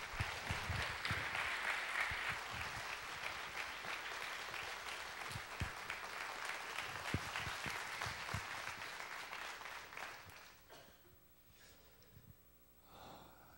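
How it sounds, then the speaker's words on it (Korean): A church congregation at a Wednesday prayer service applauds loudly to welcome a pastor to the pulpit, with sustained clapping that fades out near the end. "우리 목사님 나오실 때 크게 박수로 환영하겠습니다."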